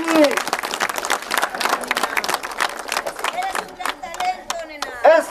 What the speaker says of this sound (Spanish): Un fuerte aplauso, compañeros.